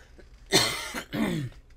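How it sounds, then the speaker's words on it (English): Two harsh, close coughs in quick succession break a quiet moment, the second slightly longer than the first. "Voice got scratchy, needed to cough it out there."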